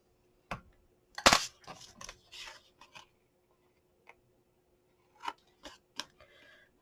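Scissors snip off small paper pieces during a mini album craft: a few sharp, close cuts and rustles in two short bursts, separated by a near-silent gap.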